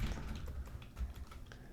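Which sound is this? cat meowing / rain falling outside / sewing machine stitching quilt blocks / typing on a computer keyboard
typing on a computer keyboard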